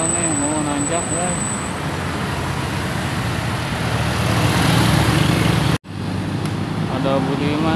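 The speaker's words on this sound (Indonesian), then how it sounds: "Ada truk engkel nih mau nanjak ya." A small single-rear-axle truck labors up the steep Cipeundeuy climb in Indonesia, its engine drone blending with loud, continuous roadside traffic noise. Horn-like tones sound early, and the roar cuts off abruptly near the end.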